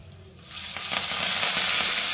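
Asafoetida dropped into hot oil for a tempering bursts into a loud, rising hiss that swells after a brief quiet start and stays strong and close, with no voices.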